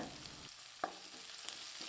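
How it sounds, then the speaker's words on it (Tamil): Onions sizzle quietly in a pan, a soft steady frying hiss with a couple of faint clinks from stirring. "இப்போ வெங்காயம் வதங்குறது"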